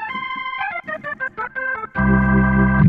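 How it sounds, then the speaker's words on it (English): A Hammond organ voice on a Yamaha YC stage keyboard plays a quick run of choppy chord stabs, then a full sustained chord rings out loud and bright. "I got my Hammond, which sounds like this"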